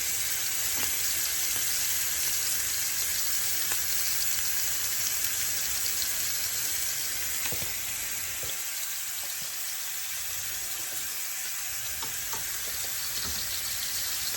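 Seafood briques, the pastry known as bastela, fry in a pan with a loud, continuous sizzle and hiss throughout, broken by occasional soft clicks and pops, with no voice.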